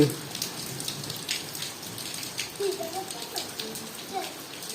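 Rain patters steadily on surfaces on a wet afternoon, a soft continuous wash of drops with a few louder splashes, while a voice speaks faintly underneath.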